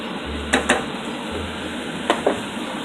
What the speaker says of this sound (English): I'm just going to gently fry them until they're nice and golden brown